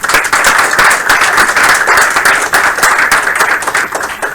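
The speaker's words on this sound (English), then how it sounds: "please give a round of applause to Derek" Audience applause welcoming a speaker, Derek, at a game studio build review, loud sustained clapping from a room of people with steady rhythm and no talking.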